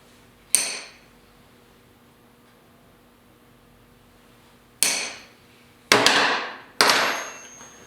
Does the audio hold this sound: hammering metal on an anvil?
yes